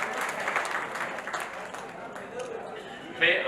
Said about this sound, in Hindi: तो इस डायनेमिक यंग कपल के लिए भी जोरदार तालियां बजाते हैं